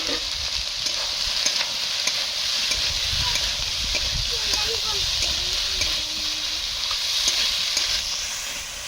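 Soybean chunks and potatoes fry in a pan with spices, a steady close sizzle with scraping stir strokes, while a voice speaks briefly over it.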